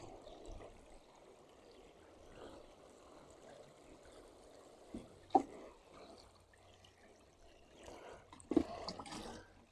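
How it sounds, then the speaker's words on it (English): Water trickles and pours gently from a watering can onto garden plants, a soft steady stream with a few louder splashes and handling knocks, close and quiet. "So we're just going to give it a gentle water."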